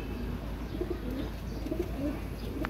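A crossbred female pigeon from Ali's line coos in low, soft, repeated murmurs close by, set against a steady hum of background noise.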